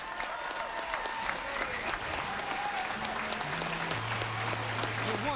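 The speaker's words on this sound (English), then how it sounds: "how about a round of applause for both of these warriors?" Crowd at a professional boxing match applauding both fighters after four rounds, a steady, moderately distant patter of clapping with a few cheers mixed in.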